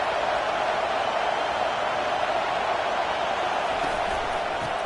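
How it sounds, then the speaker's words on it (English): A packed stadium crowd at an Ohio State football game roars in a dense, sustained wash of cheering and noise, steady and loud throughout, with faint voices buried in the din. "This crowd bringing the energy and noise early."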